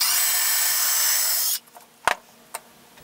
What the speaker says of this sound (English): And I think this drill bit will work.